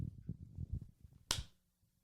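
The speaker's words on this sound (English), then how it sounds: "Will you do a big clap?" A single sharp hand clap rings out close by, after some low muffled rumbling, followed by quiet.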